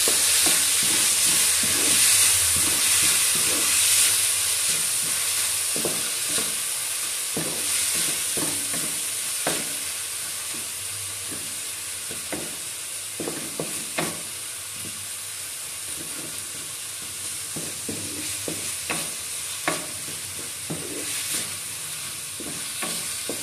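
Chopped tomatoes and green chilies frying in browned chicken masala hiss steadily in a pan while a spoon stirs and taps in irregular strokes, close and alone without talk.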